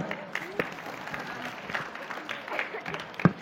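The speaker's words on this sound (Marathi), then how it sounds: "या मुलींसाठी एकदा टाळ्या" An audience gives brief, scattered applause for a group of girls at a gathering, with clapping mixed under a speaking voice and a sharper clap near the end.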